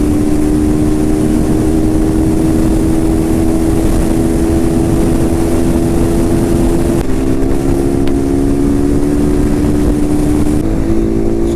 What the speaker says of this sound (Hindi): चलो यार आज ना मेरी बाइक की ना टॉप स्पीड चेक करते हैं क्या रहती है।